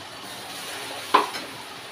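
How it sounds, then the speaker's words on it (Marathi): Ground masala paste fries in hot oil with cumin seeds for a paneer and peas curry, a faint, even sizzle broken once by a single sharp clink of a spoon against the pan. "आणि छान असं तेल सुटेपर्यंत मसाला फ्राय करून घेऊ।"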